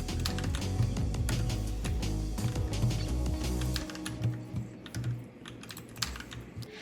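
Rapid clicking of an Attack Shark X6 budget gaming mouse during Counter-Strike play, dense sharp clicks close to the mic, thinning into scattered clicks in the last seconds.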